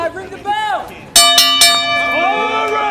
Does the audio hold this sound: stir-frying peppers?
no